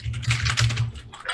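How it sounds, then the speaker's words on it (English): Loud, rapid typing on a computer keyboard, a dense clatter of key strikes with a short pause near the end, close and alone. "it involved a lot of typing, really loud typing."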